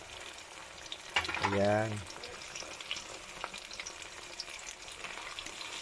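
Sardines frying in a pan as part of a home-cooked Filipino dish with sotanghon noodles, a steady moderate sizzle running throughout, with a brief burst of speech near the start.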